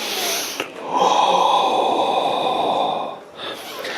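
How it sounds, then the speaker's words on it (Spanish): A single person yawns as a vocal warm-up exercise for public speaking: a long breathy, open-throated exhale lasting about two seconds, close and fairly loud, with short breaths before and after. "Y por último intentamos hacer un bostezo."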